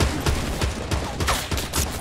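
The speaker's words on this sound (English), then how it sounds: "he got shot from behind." Rapid gunfire in the video game Fortnite: a dense run of sharp, loud shots in quick uneven bursts, close and continuous over two seconds.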